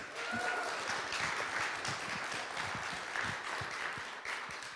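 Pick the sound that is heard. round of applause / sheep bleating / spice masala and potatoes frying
round of applause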